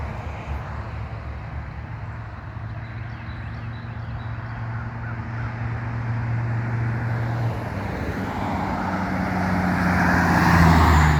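A Mercedes S-Class rolls along the road with a steady engine drone and broad tyre and wind noise that swell gradually louder toward the end, as if the car draws nearer, with no voices.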